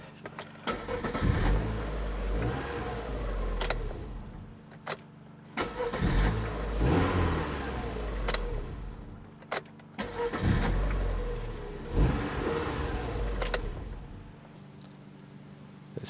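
Car engine running steadily after a jump-pack start in a workshop, a low even idle with a repeating rhythmic pulse and occasional sharp clicks over it.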